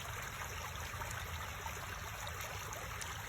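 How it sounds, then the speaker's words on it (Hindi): Continuous falling water, a steady broadband rush that holds at an even level throughout with no voices. "ये पानी की गिरने की लगातार जो आवाज़ है"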